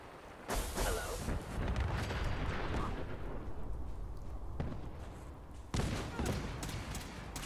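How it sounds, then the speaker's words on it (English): Gunfire and booming blasts in Fallout 4 merge into a dense, rumbling barrage that rolls on for seconds, with a sharp new burst near the end, loud and close. "Oh, they're just shooting a Kessler."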